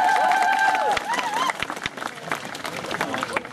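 Crowd applause for a third-place prize winner at a cosplay award ceremony at Närcon Summer 2014, dense clapping with a host's voice speaking over the start, then continuing as a steady, mid-distance wash.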